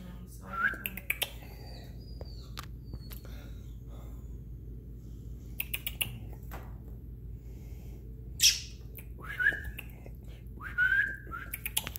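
A baby robin fledgling chirps and whistles in scattered thin calls over a quiet steady background hum, with several brief sharp clicks in between.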